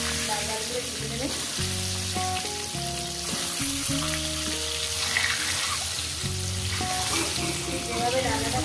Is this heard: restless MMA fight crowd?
no